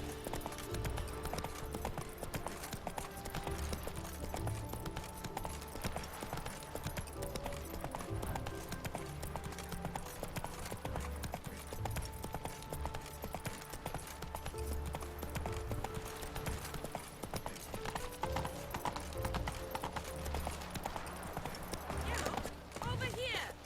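Roach, a horse in a video game, trots with steady, close clip-clopping hooves throughout, mixed with background music and occasional talk from people.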